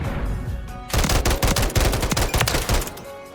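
Rapid automatic fire from an SVA 545 rifle in Modern Warfare III, a loud, close rattle of fast shots running for a couple of seconds after a brief lead-in.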